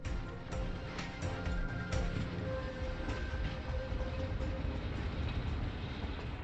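A slow train rumbles steadily beside a village station platform in China, its wheels clanking and squealing faintly over a continuous low roar, with no clear speech.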